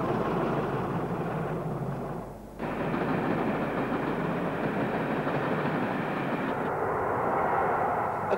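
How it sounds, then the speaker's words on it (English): A Class 40 diesel locomotive hauls the Up Royal Scot south of Crewe, a loud continuous engine roar and rolling train rumble filling the whole stretch, dipping briefly midway before surging back up. "A Class 40 on the Up Royal Scot, south of Crewe."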